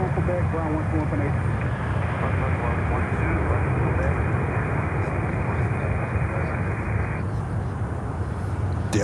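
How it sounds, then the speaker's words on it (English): A LATAM Boeing 777 heavy at Miami airport gives off a loud, steady broadband roar of engine noise that persists evenly throughout, with no voices. "There you have it, 777 from Latam."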